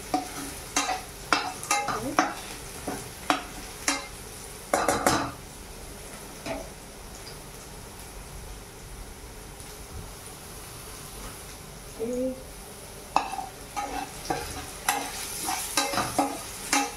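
Potatoes fry in a pan under a low, steady sizzle as a spoon repeatedly scrapes and clatters against the metal in quick bursts, with quieter stretches of plain frying between.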